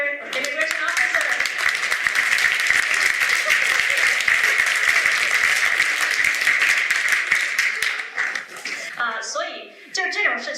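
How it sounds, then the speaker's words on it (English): An audience applauds actor Liang Chen after a staged scene, with dense clapping that carries on for several seconds, then tapers off as voices come in at the end. "let's give applause to Liang Chen for being a great actor, immigration officer."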